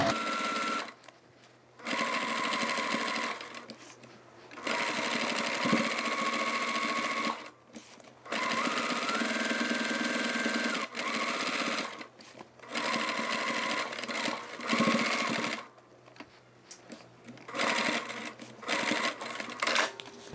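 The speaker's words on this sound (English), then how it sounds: "So all we have to do now is just sew around here. We're basting this mesh onto the lid." Sewing machine basting mesh onto the lid of a toiletry bag, running in several steady bursts of stitching separated by brief pauses, loud and close with no talk.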